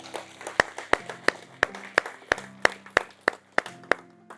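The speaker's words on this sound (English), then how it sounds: "I want to give her a big round of applause." A single person or a few people clap in a slow, steady rhythm, about a dozen sharp claps, fairly quiet and close, at an industry charity donation event for beekeepers.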